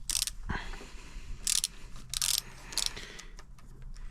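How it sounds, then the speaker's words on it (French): A tool loosens the stem cap on a Sur-Ron Light Bee electric bike, close metallic ratcheting clicks in short bursts with brief pauses between them. "Je desserre le capuchon de potence qui sert à serrer le jeu de direction."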